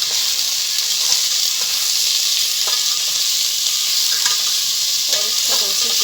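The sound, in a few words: chicken with onion and garlic ginger paste frying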